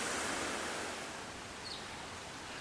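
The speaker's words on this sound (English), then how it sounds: "you see the waterfall there from the very top to the very bottom." A waterfall at a mill in Ponce, Puerto Rico, rushes in a steady, dense broadband roar, close and unbroken throughout, with no voices.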